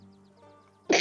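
A single sharp sneeze bursts out at the end after a quiet moment with a faint hum and soft rhythmic ticking, close and abrupt.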